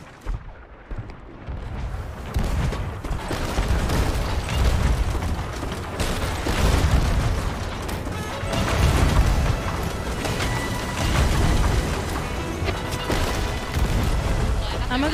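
Ship cannons firing during a Sea of Thieves battle: repeated booming shots and crashing impacts over a constant churn of water and wind, with players talking over the din.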